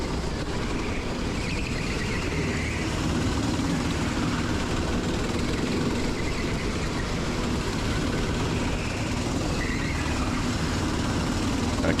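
Kart engines drone loudly and steadily through a race, a dense continuous roar with no pause and no voices.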